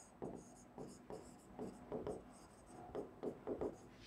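Pen scratching across paper in short strokes, a series of soft rhythmic scribbles with brief pauses between words, close and quiet.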